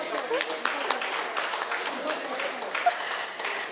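Applause from an event audience in Khammam, a dense hiss of scattered clapping held steadily at moderate level throughout, with no words spoken over it.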